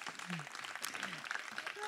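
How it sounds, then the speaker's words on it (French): An audience at a public workshop presentation in Saint-Médard-en-Jalles applauds in a dense, steady patter of clapping that lasts the whole stretch, with voices faintly mixed in. "On les applaudit."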